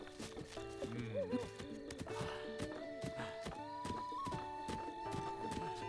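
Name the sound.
horse neighing and hooves in video game Zelda Breath of the Wild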